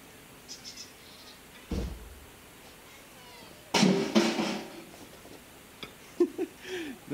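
A few short meows from five cats being fed breakfast, and scattered clatter of plates, with a louder burst of rustling and bumping in the middle, fairly close and otherwise quiet.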